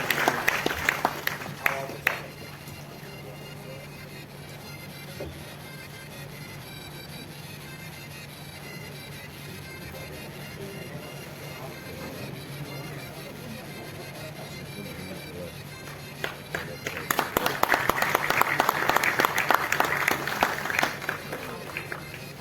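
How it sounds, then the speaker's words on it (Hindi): An audience claps at a state-level journalist award ceremony marking Devarshi Narad Jayanti. A short burst of applause comes first, then a quieter stretch, and a fuller round of clapping swells near the end. "आपकी तालियां बजती रहनी चाहिए जब तक ये सम्मान मिले।"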